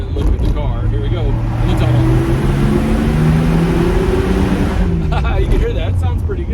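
A 1983 Datsun 280ZX GL coupe with a 5-speed manual and 62k miles idles steadily. The engine drone is loud and constant, with a rising and falling tonal hum through the middle.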